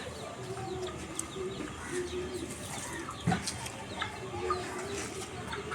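Desi chickens and a rooster cluck softly and intermittently in a backyard, with scattered bird calls mixed in, a steady low murmur of outdoor background, and one brief louder burst midway.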